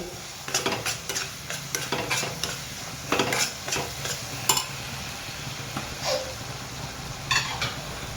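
Onion, tomato and capsicum frying in a pan, continuous sizzling broken by frequent rapid scraping and clattering strokes of a stirring spoon, up close and with no talking.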